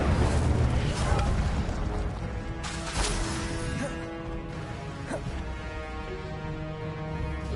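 A fire spell being cast in the Hogwarts Legacy video game, with loud booming bursts and crashes in a dense, chaotic fight, the clatter and whooshes coming one after another.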